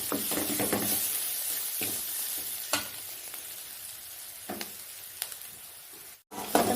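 Chopped onion fries in hot oil in a pan, giving a close, continuous crackling sizzle broken by occasional clicks of stirring, with a brief cut in sound near the end.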